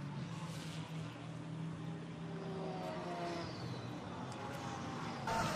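KTM X-Bow GT4 race car at the Most circuit in a GT4 Central European Cup race, engine note droning steadily across the whole stretch with shifting pitch sweeps as it passes, loud and continuous with no talk.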